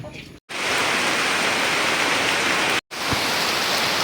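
Heavy rain falling steadily over a rural farm area in the Philippines, a loud broadband hiss that fills the scene, cut by two brief silent gaps, with a faint voice at the start.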